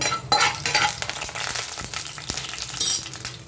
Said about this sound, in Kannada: ಸಾಸಿವೆ ಚಟ್ಪಟ ಅಂತ ಸುರಿದಾದ್ಮೇಲೆ ಸ್ವಲ್ಪ ಕಡಲೆಬೇಳೆ ಹಾಕಬೇಕಾಗತ್ತೆ. ಸ್ವಲ್ಪ ಕಡಲೆಬೇಳೆ ಹಾಕಿ ಸ್ವಲ್ಪ ಹುರ್ಕೊಂಡು